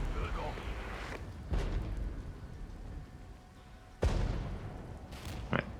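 An artillery barrage in the strategy game Regiments, with distant booming impacts and low rumbling over a noisy battlefield bed. Several sharp blasts land at irregular intervals.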